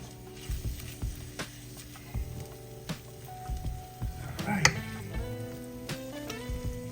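Jambalaya mixture sizzles steadily in a pan while a spoon scrapes and mashes it in a series of close, regular knocks and stirs, with a voice speaking over the cooking.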